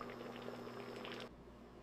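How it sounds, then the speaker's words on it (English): Watermelon rind simmers in sugar syrup during commercial pickle processing, a soft, steady bubbling and hiss that is faint and close, then drops away abruptly near the end. "Slow cooking in syrup for 45 minutes allows complete flavor penetration."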